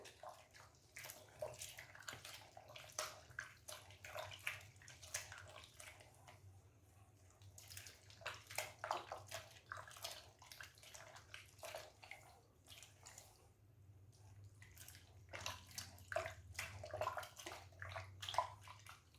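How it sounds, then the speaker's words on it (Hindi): Milk dripping and trickling from freshly churned homemade butter as it is squeezed by hand, a faint irregular patter of drips and small splashes over a low steady hum. "आप देख सकते हैं दूध इसमें से टपक रहा है"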